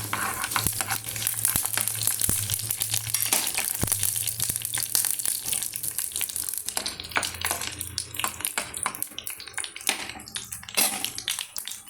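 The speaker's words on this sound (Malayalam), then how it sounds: "കടുക് ഇട്ട് കൊടുക്കാം ഇത്രയും ഇട്ടിട്ട് ഇതൊന്ന് പൊട്ടട്ടെ" Mustard seeds, with dried red chillies, spluttering in hot oil for a Kerala-style snake gourd and ivy gourd dal thoran: a steady close sizzle peppered with sharp, irregular pops and crackles, no voices.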